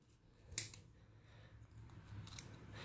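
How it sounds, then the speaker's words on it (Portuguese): Scissors snip through a yarn pompom with one sharp close cut, followed by a second fainter snip near the end, over quiet background. "justamente para nossa tesoura encaixar ali no meio, ó, nesse espaço aqui, e cortar o pompom"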